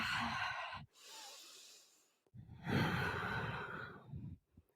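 Two long audible exhales during a yoga forward fold in a vinyasa power session, each a breathy, airy whoosh close to the microphone, separated by a brief pause, with no talking.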